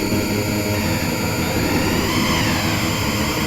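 Synthesized futuristic race car engines from the SNES racing game F-Zero produce a loud, continuous buzzing drone with layered tones, steady throughout.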